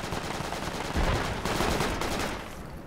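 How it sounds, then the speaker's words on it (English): Loud, dense gunfire in a first-person shooter video game, continuous rapid shots blending into a roaring, crackling burst that fills the whole moment without pause. "He's shooting at me."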